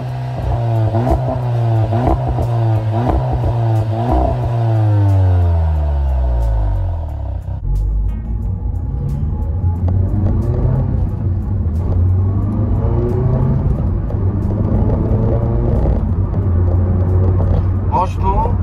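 A 280-horsepower Seat Leon Cupra is driven on the road. Its engine climbs through rising revs and gear changes, then settles into a steady rumbling cruise. Speech is likely present over the engine.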